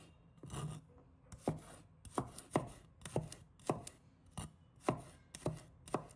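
A knife slices garlic on a cutting board in about ten crisp, evenly spaced chops, close and clear against near silence.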